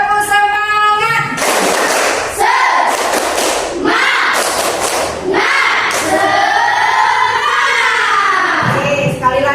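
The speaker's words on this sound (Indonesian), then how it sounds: "Coba deh kita tepuk semangat dulu." A class of students doing the rhythmic 'tepuk semangat' spirit clap, loud, close bursts of clapping and thumping mixed with children's shouted chanting in several rounds, with a teacher's voice between them.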